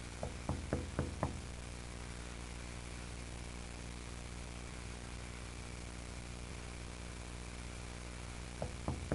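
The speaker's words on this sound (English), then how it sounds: "He notices that the knocking is coming from outside his window." Knocking on a bedroom window in a dark animated analog-horror short: a quick run of four sharp raps near the start, then three more at the end, over a constant low droning hum.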